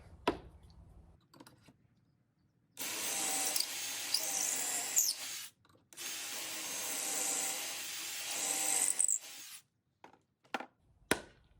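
A drill whirs through wood in two long bursts, drilling pocket holes for outdoor furniture, separated by quiet, with scattered clicks and taps of handling before and after.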